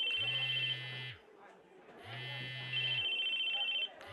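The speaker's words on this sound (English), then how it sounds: "the ringtone was ringing at the same time" Phone ringtone from the visual novel game Chaos;Head rings in repeated electronic bursts, each about a second long with a short gap between, fairly loud and with no talk over it.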